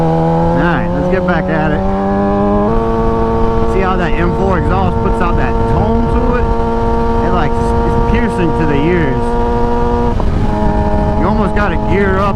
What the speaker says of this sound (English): See how that M4 exhaust puts out that tone